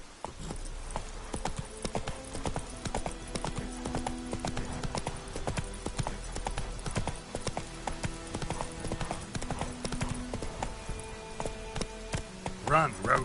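The horse Roach gallops in The Witcher 3 with a rapid, rhythmic clip-clop of hooves that runs throughout, close and clear over a layer of game music, with a brief voice near the end.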